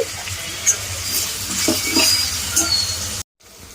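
Pumpkin pieces fry in a pan for a Telugu pumpkin curry, giving a steady close sizzle with light stirring scrapes that stops abruptly into near silence at the end.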